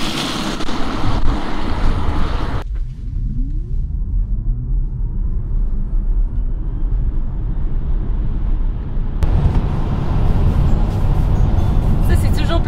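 A Tesla Model Y Standard Range accelerates hard from a stop, its electric motor giving a faint rising whine under loud wind and road roar that grows as speed builds.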